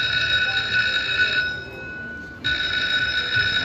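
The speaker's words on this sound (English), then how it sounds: "Let's hear the bell." A bright, sustained electronic jackpot bell on a Dragon Link slot machine rings steadily, cuts out for about a second, then resumes just as loud, with no voices.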